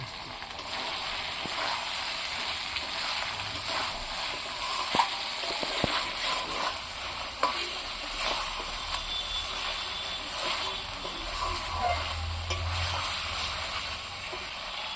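Chicken cooked with masala and green chillies sautéing in a pan, a continuous close sizzle and frying hiss with occasional light scrapes and clinks, no talk.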